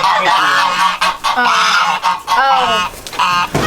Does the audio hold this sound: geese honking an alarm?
yes